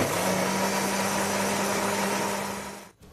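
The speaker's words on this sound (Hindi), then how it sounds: "पानी डालने के बाद फिर हम इसे ग्राइंड करते हैं।" An electric grinder whirs steadily while blending soaked dried apricots for chutney, a loud, even motor hum that winds down and cuts off near the end.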